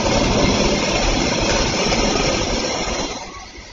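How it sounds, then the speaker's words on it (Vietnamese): A loud, low truck engine starting on its own at 1 a.m. rumbles steadily, then eases off and fades slightly near the end, with no voices present. "tôi có nghe là cái tiếng động cơ khởi động đúng không ạ"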